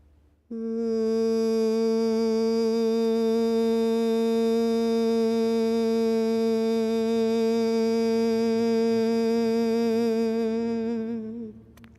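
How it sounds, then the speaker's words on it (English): A steady, buzzing hum made with the tongue against the palate, held on one pitch for about eleven seconds, rich in overtones and bee-like, with no other sounds. "all you have to do is hum, it's going to push that vibration up toward your"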